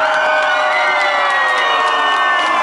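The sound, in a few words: loud applause and cheering for Preslava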